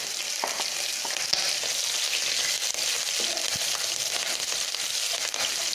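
Garlic and green chillies fry in hot oil with a dense, continuous sizzle and crackle, broken now and then by the light tap of a stirring spoon.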